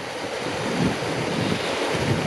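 A mountain stream on a high Tyrolean hiking trail rushes past as a steady, close, broadband roar of flowing water, continuous and unbroken, with no voices.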